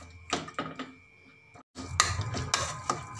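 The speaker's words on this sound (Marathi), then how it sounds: "आता या ठिकाणी प्रत्येकाच्या घरात हे मॅशर असते. आता हे मॅश करून घेऊया" A masher works through cooked carrots for carrot halwa in a pressure cooker, giving soft squishing thuds and light metallic clinks in short bursts. A brief pause falls between strokes, and no one speaks.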